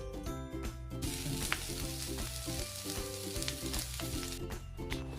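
Leafy greens and brinjal slices sauté in a pan for a Maharashtrian Bhogi dish, a steady sizzle running the whole time beneath prominent background music.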